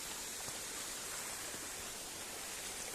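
Broadband rushing of stream water flowing steadily and close by, a continuous wash with no voices over it.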